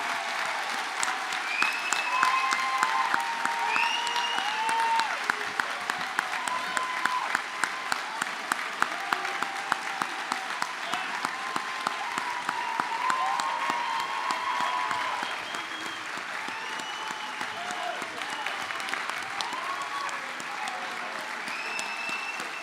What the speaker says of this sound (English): One last huge applause for the Springside Chester Hill class of 2023.